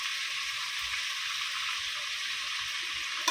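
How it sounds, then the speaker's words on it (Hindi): Chicken pieces fry in a steel kadhai with a steady, close, even sizzle that holds at one level throughout, plus a brief louder crackle at the very end. "ऐसा चिकन पूरा फ्राई करेंगे, फिर आपको बताएंगे।"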